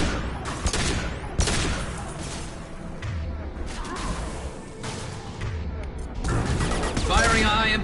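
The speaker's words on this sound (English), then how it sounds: "Firing a high-impact shot" Gunfire in the video game Mass Effect 2, with repeated bursts and sharp cracks over several seconds amid battle noise, heavier toward the end, with voices talking in between.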